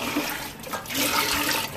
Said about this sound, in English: I'm gonna go chicken stock and water for this